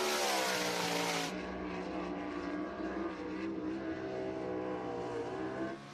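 Danny Smith's number 4 Coors Light race car accelerating down the back straightaway at Cherokee Speedway, a loud sustained engine roar with steady harmonic tone, fading slightly at the end, no talk.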